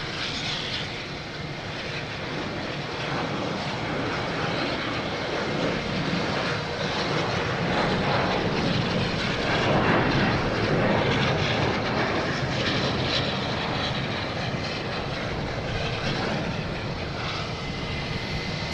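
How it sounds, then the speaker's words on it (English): Airliners, including a Delta jet, taking off at Boston Logan Airport: a continuous, broad jet-engine roar that swells gradually toward the middle and then eases, steady and moderately distant with no talking. "United Airlines from San Francisco, 757, and we have a Delta taking off from LaGuardia"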